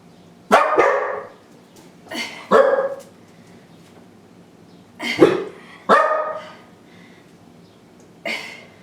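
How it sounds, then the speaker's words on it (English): Several dogs bark indoors in a home gym, loud close bursts coming in uneven clusters of two or three barks with short quiet gaps between them. "all my dogs are in here"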